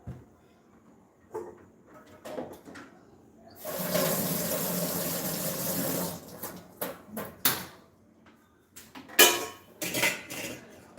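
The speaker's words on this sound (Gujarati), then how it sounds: "પાણી તૈયાર છે હવે ગાળી લેવાનું છે" Spiced water for pani puri is strained, a few seconds of steady pouring and splashing set between scattered clinks and knocks of kitchen utensils, fairly close.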